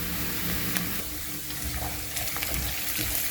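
Onion and yogurt mixture stirred while frying in a pan, with a steady close sizzle and scraping spoon strokes throughout, no talking.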